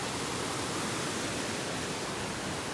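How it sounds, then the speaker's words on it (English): Fast mountain creek tumbling down a steep rocky descent in one long continuous rapid near Lake Louise in the Rockies, a loud, dense, unbroken rush of water close by, no voices. "It is just one long, non-stop rapid waterfall, man."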